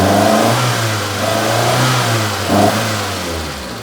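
The engine of a Proton Satria car with a misfire revs steadily and loudly up close. Its drone wavers and stumbles unevenly throughout, with no voices over it.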